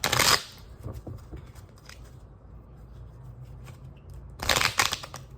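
Tarot cards are shuffled in two brisk riffling bursts, one at the start and one near the end, close and crisp, with quiet handling sounds between and no talk.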